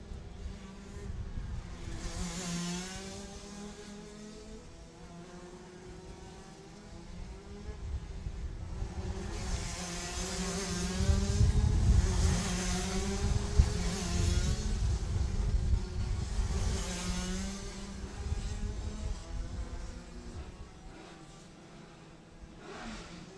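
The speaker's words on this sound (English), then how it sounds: "Lupien having to start all over as they both see Marco Signoretti and Davide Greco driving off into the distance." Rotax racing karts at a Florida Winter Tour race in Jupiter, Florida, buzz around the track, engines droning in a steady high whine that swells and fades as several karts pass one after another at a moderate distance.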